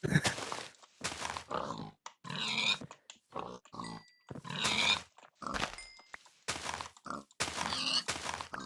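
Pigs in the video game Minecraft grunt and oink in a series of short, clipped calls spaced irregularly, close and fairly quiet, with no talk over them.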